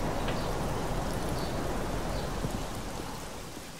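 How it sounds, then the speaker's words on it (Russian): Steady rain falls over a grey seaside promenade in the video game Black Mirror 2. It is a continuous, even wash of rainfall at moderate level, with no talk over it. "какой променад серый и невзрачный во время дождя"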